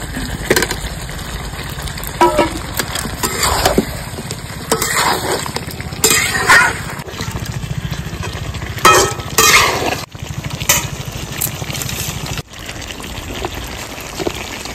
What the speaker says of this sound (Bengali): এই পর্যায়ে আমি দিয়ে দেবো ভেজে রাখা আলুর টুকরোগুলো।